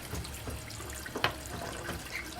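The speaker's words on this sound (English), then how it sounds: "This is tap water. This is regular tap water." Regular tap water runs from a faucet at moderate volume, a soft continuous splashing with a few brief drips and clinks.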